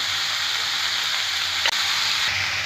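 Cabbage, beans, carrot and onion sauté in a hot pan with a steady, close sizzle and one brief clatter of stirring partway through. No voices are heard.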